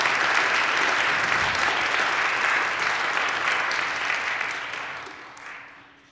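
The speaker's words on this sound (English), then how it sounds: "Let's give her a round of applause." A gathered audience gives a warm round of steady, dense applause that holds evenly, then gradually fades away over the last seconds.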